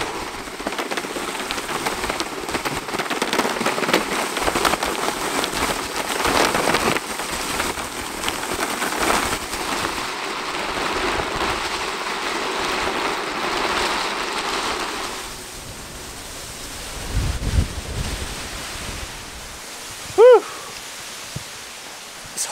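Steady roaring wind buffeting past while riding an electric skateboard outdoors, loud broadband rush for most of the stretch, easing later with a few brief bumps and a short tonal whine near the end.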